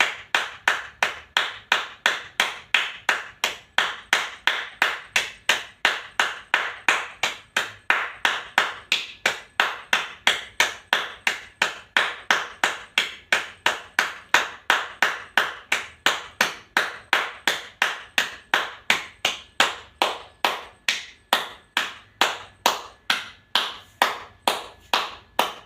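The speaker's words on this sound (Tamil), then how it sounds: "கைத்தட்டில் ஐடி ஸ்டைல் தான்" Brisk hand clapping keeps a fast, unbroken beat of roughly three claps per second, loud and close, with nothing else heard.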